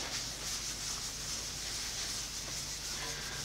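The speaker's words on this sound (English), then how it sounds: "the way I rub this in is I just rub it in till there's sort of no residue left" Boeshield T-9 is rubbed into a cast iron table top, a steady, even hiss of continuous rubbing, close and fairly quiet, with no talking.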